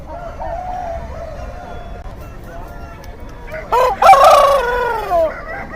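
A country rooster at a village chicken market in Nallapadu crows once, loud and close, with a long drawn-out call near the end, over low market background noise.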